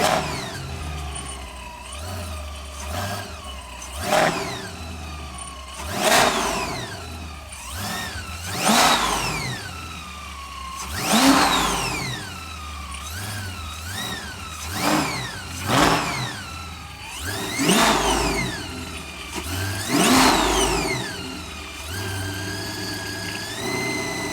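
A C8 Corvette with a cog-driven supercharger revs repeatedly, each blip rising into a sharp climbing whine and then falling back to idle. The sound is close and loud, with roughly a dozen rev cycles and no talking.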